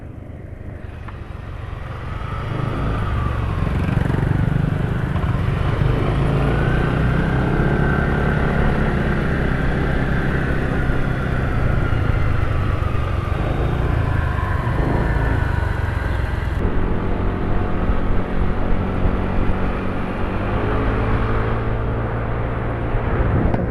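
A noisy motorcycle engine runs continuously with a loud, steady, rumbling drone. It stays up close for over twenty seconds with little change in level.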